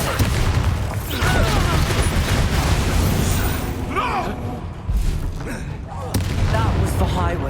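A Bombarda explosion spell goes off in Hogwarts Legacy amid a barrage of booming, crackling blasts and whooshing effects, loud and sustained with a brief dip midway before erupting again.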